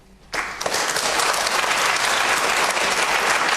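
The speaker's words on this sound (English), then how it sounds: "There are a number of people who are applauding what Philip said" A studio audience at a televised gay marriage debate bursts into loud, sustained applause that starts abruptly and keeps going at full strength.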